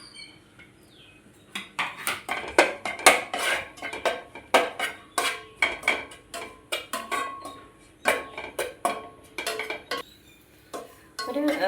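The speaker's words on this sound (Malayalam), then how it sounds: "നമുക്കൊരു പാത്രം അടുപ്പത്ത് വെച്ച് ഈ തേങ്ങ ഒന്ന് ചെറിയ ഒരു ബ്രൗൺ കളറാകുന്നത് വരെ" Grated coconut roasting in a pan on the stove is stirred with a metal spoon, giving a close series of irregular scraping clinks and taps against the pan with brief pauses between strokes.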